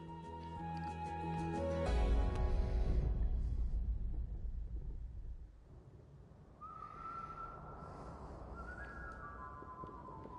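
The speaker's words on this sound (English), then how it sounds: "already could hear the storm rising outside" A low rumbling roar of a storm rising outside in the VR video game A Fisherman's Tale swells and fades, with a faint whistling, whining tone drifting in later.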